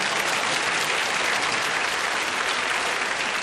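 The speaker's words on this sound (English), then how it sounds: "A big round of applause for Chris." Studio audience at a 1979 Christmas television game show breaks into loud, dense applause, an even wash of many hands clapping throughout the short stretch.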